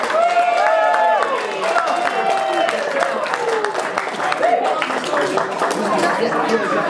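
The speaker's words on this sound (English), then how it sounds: "Give a round of applause" Wedding guests applaud right after the cake cutting, a steady wash of clapping from a nearby crowd lasting throughout, with chatter and a voice speaking over it.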